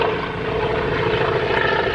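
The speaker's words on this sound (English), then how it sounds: "It's a float plane." A float plane passes overhead in rural Simpang Renggam, Malaysia, its propeller engine making a loud, steady drone that fills the whole moment with no talking.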